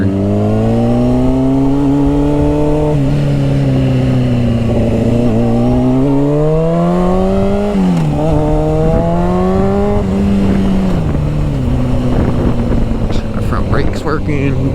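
A motorbike ridden through water, its engine revving loudly and continuously with the pitch rising and falling as the throttle changes, close and dominant throughout.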